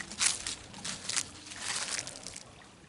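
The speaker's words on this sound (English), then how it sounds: "That water flowing." Water runs and trickles along a roadside spot on Cousintown Rd in Interlachen, Florida, a steady, fairly close splashing flow with small bursts of brighter splatter.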